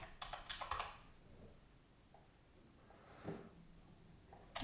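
A short burst of quiet keystrokes on a computer keyboard while writing code, followed by near silence and a couple of faint clicks in a calm room.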